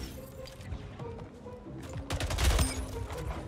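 Video game gunfire during a final kill cam in a pistol SWAT match: a short, dense burst of rapid shots that swells briefly, then fades into quiet game noise.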